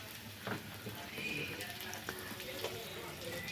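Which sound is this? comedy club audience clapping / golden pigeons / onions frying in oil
onions frying in oil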